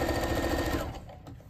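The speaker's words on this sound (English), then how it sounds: "then sew the straps on" A sewing machine stitches straps onto handmade flower bags, a rapid, close mechanical whir of stitching for under a second before it slows and stops.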